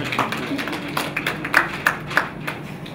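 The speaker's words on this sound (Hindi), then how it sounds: "तालियां एक बच्चे के लिए।" Scattered clapping from an audience at a literature festival session for a child, a handful of uneven claps of varying loudness over a faint background murmur.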